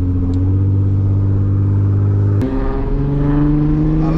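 A loud, deep straight-pipe exhaust on a stretched Mercedes-Benz E-Class wagon limousine roars steadily at idle, then blips sharply and settles into a higher, throaty rumble, close and with no talk.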